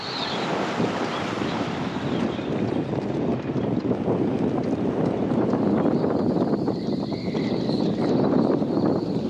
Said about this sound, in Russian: Все сносит, ветер вообще сильно усилился